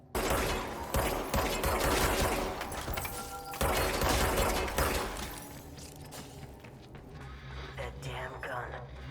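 Gunfire in the video game Control: dense bursts of shots and impacts with shattering debris, loud and continuous across the whole stretch, with a voice murmuring faintly beneath the action.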